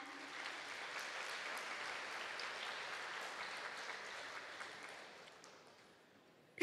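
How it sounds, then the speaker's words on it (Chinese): An audience applauds steadily to welcome choir groups at a Muar choral exchange gathering, a dense even patter of many hands lasting several seconds before fading out, followed by a sudden loud knock at the very end. "也让我们热情的掌声来欢迎他们"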